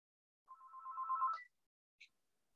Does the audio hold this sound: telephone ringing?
yes